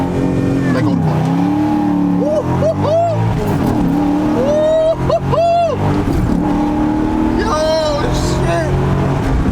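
An Audi B7 S4 launching hard from first gear, engine revving loudly and climbing through repeated rising pitch sweeps, with people talking over it throughout.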